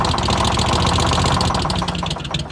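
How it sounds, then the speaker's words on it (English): Detroit Diesel two-stroke engine with a Roots blower, the 'Screamin' Jimmy': a loud, close, rapid mechanical pulsing with a strained upper whine layered over a heavy low drone, easing slightly toward the end. "creating the distinctive high-pitched whine that became known as the Screamin' Jimmy"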